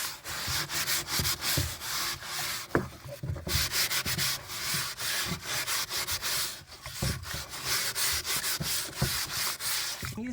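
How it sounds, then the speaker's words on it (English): A gourd is scrubbed with a stainless steel pot scrubber in close, rhythmic strokes, a loud rasping scrape that repeats steadily with brief pauses between passes. "Using a stainless steel pot scrubber, I find this works much better than a plastic scrubber."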